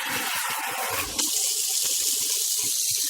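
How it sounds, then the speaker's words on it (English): Water sprays steadily from a newly installed single-hole, single-lever faucet, a close, continuous hiss that begins abruptly about a second in after a softer flow and keeps on alone with no talking. "you pull in the handle to spray"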